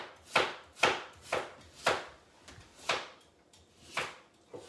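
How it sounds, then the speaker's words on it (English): A knife chopping peeled horseradish root into small chunks on a board: about nine crisp, evenly spaced cuts, close and clear with no voices. "I'm going to take my knife and I'm going to just cut it into some small little chunks."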